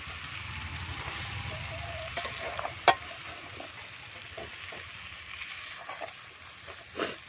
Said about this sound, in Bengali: তো মাংসটা আমি এখন ভালো করে কষিয়ে নিই।